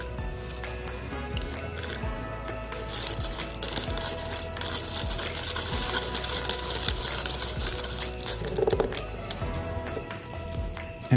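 A hand-cranked kitchen grinder turned steadily while making Christmas cookies, giving a continuous mechanical rattle with a regular rhythmic churn, fairly close, with light clatter throughout.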